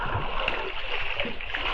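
Swimmers churn the water of a bathing tank in Konkan, producing a brief, busy stretch of sloshing and splashing, close and fairly loud with a faint murmur of voices.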